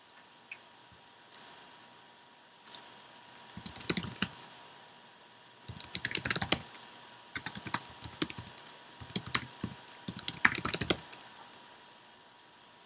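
Rapid clicking bursts from typing on a computer keyboard while coding, close and crisp, coming in uneven clusters with short pauses between them and no talking.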